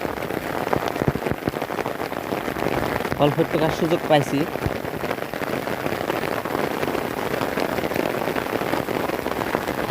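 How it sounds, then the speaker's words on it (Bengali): Heavy rain pours steadily on surfaces in a Bangladeshi field setting, a dense constant hiss throughout, with someone talking briefly over it. "বৃষ্টির পরিমাণটা অনেক বেশি।"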